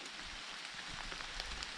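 Steady rain falls in a forest during mushroom picking, a continuous soft hiss of drops on leaves with no voices.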